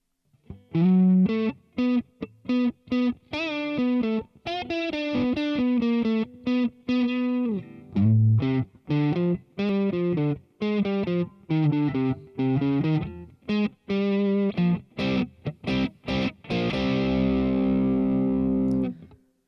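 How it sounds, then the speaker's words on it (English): Electric guitar played through a Boss Katana MKII amp with distorted tone and a wavering, modulated hall reverb: a fast run of picked notes and chords, loud and close, ending on a sustained chord that rings out into a lingering reverb tail. "modulate this reverb as the wavering sound found in hall reverb to provide an extremely pleasant reverb sound"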